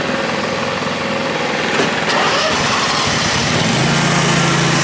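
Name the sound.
Exmark Viking V-Ride standard lawn mower engine running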